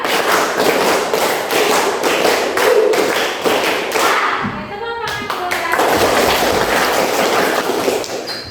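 A classroom group of Islamic religious education students claps a rhythmic spirit chant in quick, evenly spaced claps, speeding up. The claps are loud and close, with a short pause before they resume.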